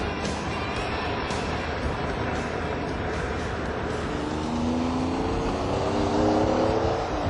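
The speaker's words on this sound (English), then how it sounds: "It's called the Diablo, and it's one of the fastest cars in the world." A Lamborghini Diablo sports car engine roars steadily, its pitch climbing as it revs harder toward the end, loud and continuous without speech.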